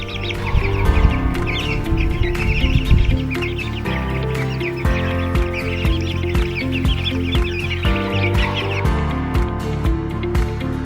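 A flock of young chicks, guinea fowl and turkeys clucks and peeps continuously, close and busy, with overlapping calls throughout.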